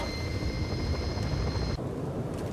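Airliner engine in the video game Just Cause 4, a steady loud roar with a high whine that cuts off abruptly near the end, leaving broadband rushing noise.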